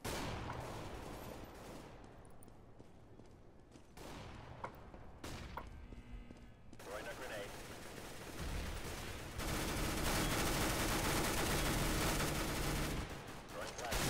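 Gunfire in Counter-Strike: Global Offensive fills the stretch as dense, continuous bursts of shots and impacts. It grows louder and more sustained in the second half, with no break in the barrage.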